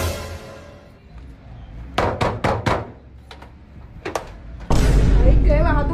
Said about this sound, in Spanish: ¿Vas a tumbar la puerta?